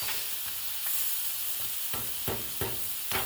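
Frozen shrimp sizzling on a Blackstone griddle, a continuous frying hiss broken by several scraping strokes of a spatula stirring toward the end.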